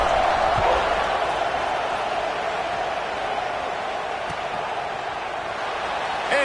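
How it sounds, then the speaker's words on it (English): Football stadium crowd at Penn State versus Wisconsin buzzing after a score, a broad, steady roar of thousands of distant voices holding level throughout with a few faint thuds. "this crowd is buzzing after that last score"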